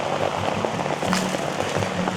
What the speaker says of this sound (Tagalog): Mas lalong lumalakas yung ulan.